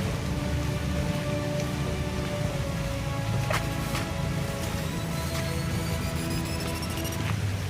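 Heavy rain pours steadily, a dense continuous hiss with scattered drops and faint clinks, no talking.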